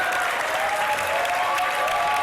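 Sustained audience applause and cheering at the AGDQ 2015 speedrun event after a Ninja Gaiden race, a dense, steady wash of clapping filling the room.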